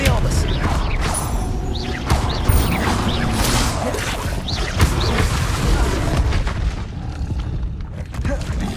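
Magical combat in Hogwarts Legacy as the Expelliarmus spell is cast repeatedly, with booming impacts, whooshes and clattering mechanical crashes that layer continuously under steady action.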